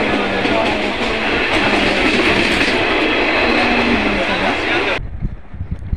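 Steady loud rumble and rattle of a train bound for Sealdah station, Kolkata, running on rails, heard from inside a carriage, cutting off abruptly near the end.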